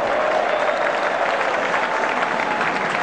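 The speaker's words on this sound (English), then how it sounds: "There's a big cheer" A cricket crowd at a 2009 T20 match between South Australia and Western Australia roars in a steady, loud cheer for a boundary, broad and continuous for the whole stretch with no voices standing out.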